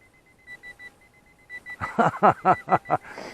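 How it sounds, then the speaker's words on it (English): Short repeated electronic beeps from an RC transmitter low battery alarm pulse at a steady rhythm, fairly faint, then a series of louder chirping tones joins in quick succession. "Now I've got all kinds of buzzers going."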